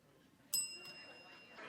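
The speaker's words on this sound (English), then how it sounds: "This is the time's up bell." A time's-up bell rings once at a business networking quiz event, a bright ding with long sustained high overtones that ring on and fade over about a second, loud against a quiet room.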